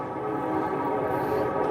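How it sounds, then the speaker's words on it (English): A train rumbles past near a pond, a steady dense roar with a sustained horn-like tone running through it, fairly close and continuous. "It's a train over there."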